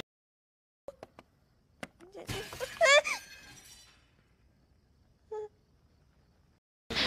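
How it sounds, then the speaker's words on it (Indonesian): Glass shatters in a house across the street, a sudden bright crash with scattering tinkles after a few faint knocks, then quiet with brief isolated sounds. "dikejutkan oleh sebuah suara kaca yang pecah dari sebuah rumah di seberang jalan"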